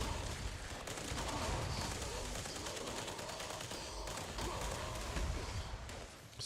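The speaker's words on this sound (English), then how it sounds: "Stop shooting missiles indoors." Missiles fired indoors during Fallout 76 gameplay: a dense, continuous barrage of booming blasts and rattling gunfire fills the room, loud and relentless throughout.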